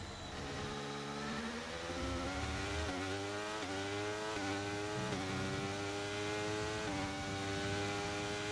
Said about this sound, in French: Ah, le moteur aussi qui fait un bruit chelou